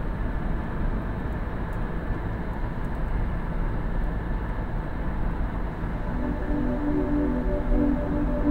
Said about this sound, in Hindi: वो एक हेलीकॉप्टर है